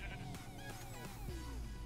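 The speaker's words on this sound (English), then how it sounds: "Alright, hello Mr. Sheep." A sheep in the video game Minecraft bleats in quick, wavering calls, the short game bleats repeating close and clear with no talk over them.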